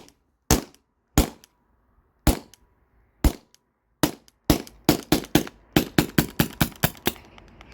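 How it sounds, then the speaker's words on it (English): A Salt Supply S2 CO2 launcher is dry fired with the gas valve shut, giving sharp, dry snapping shots. A few come spaced out, then a rapid run of them follows, each one close and clear against silence. "I'll dry fire this like 3 shots probably."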